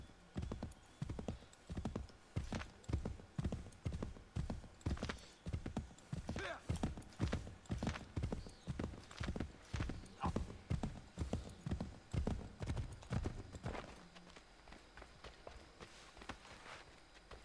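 A horse in the video game Assassin's Creed III pounds along in a steady, rapid run of hoofbeats, loud and close, then stops near the end while someone talks over it.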